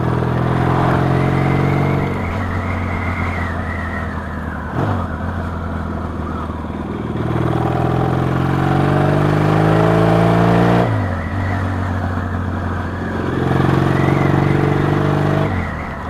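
A Yamaha XS650 motorcycle engine, freshly rebuilt, idles with a steady low rumble, revving up and settling back down several times in a rising and falling pattern.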